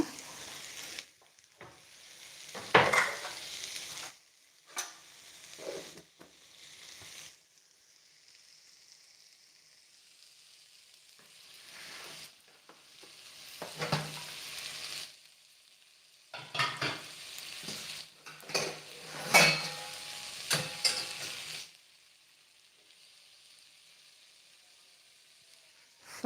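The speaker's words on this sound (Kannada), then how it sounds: "ಫ್ರೈ ಆಗಲಿ ಎಲ್ಲ" Tempering for amaranth greens saaru fries and sizzles in a pan, with bursts of stirring and scraping that swell and fade across the stretch, and no talking.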